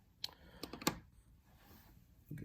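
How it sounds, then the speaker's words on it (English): Scissors snip a straight edge through a clump of deer hair at a fly-tying bench, giving a few quick, crisp close-up cuts and clicks in a quiet room, with a soft rustle at the end. "I'm just going to take my scissors and I'm just going to cut a straight edge on this deer hair"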